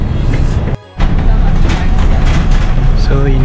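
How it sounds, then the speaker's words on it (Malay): Steady engine and road rumble from inside an airport shuttle bus in Singapore, continuous and fairly loud, with a brief dropout near the start and a faint tonal chime toward the end. "Jom beramai-ramai naik bas."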